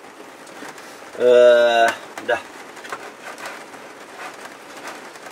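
Rain falls on a caravan roof as a faint, steady patter in the background. A voice speaks over it, and a short tonal call rises briefly above the patter.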